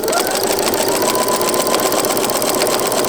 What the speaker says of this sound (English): I'm literally just letting the machine and the walking foot do the job.